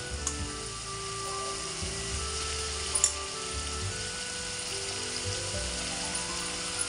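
Chili, onion paste and sesame powder fry in hot oil for a spiny gourd curry, giving a steady dense sizzle with a low bubbling rumble underneath and a few faint clicks, no talk.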